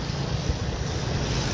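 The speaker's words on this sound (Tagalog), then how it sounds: "kaso lang malakas talaga yung tubig, umapaw" Strong floodwater surges through an overflowing creek during Typhoon Tino in Cebu, a dense, continuous roar of rushing water mixed with wind buffeting the microphone.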